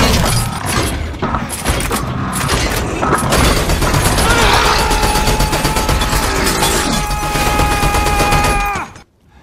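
Machine gun fire in the Terminator Salvation film: a dense, loud, continuous rattle of shots mixed with crashing impacts, cutting off abruptly at the end.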